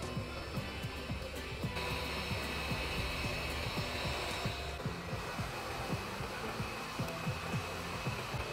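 The hot air gun of a JCD 8898 750W 2-in-1 SMD rework soldering station blows a constant soft whoosh of air, with light ticking underneath, alone and at moderate distance.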